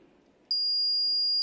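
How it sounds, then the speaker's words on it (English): An Arduino-driven crop protection alarm buzzer switches on abruptly and holds a steady, piercing electronic tone over a faint background hum. "automatically the buzzer is on and indicates in the farmer's house"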